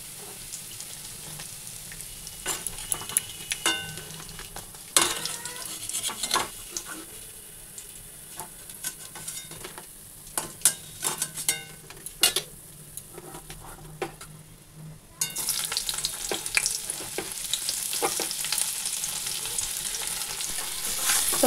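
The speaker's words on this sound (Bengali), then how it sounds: "এবারে ফুলকপিটা ভেজে নেব" Cauliflower fries in a pan with a continuous sizzle, broken by repeated scrapes and clacks as it is stirred; the hiss grows louder and denser in the final seconds, with no talking.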